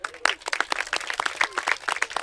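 Audience applause at a Human Rights Day gathering with slum dwellers: a dense burst of many hands clapping at once, steady and fairly close for a couple of seconds.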